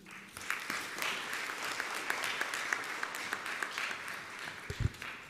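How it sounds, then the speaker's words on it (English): An audience at a university session claps after a speech, a steady moderate patter of many hands that carries on without a break, with a few louder thumps near the end. "Can we give a clap again?"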